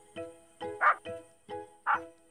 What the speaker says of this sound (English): Snuffy carried on barking.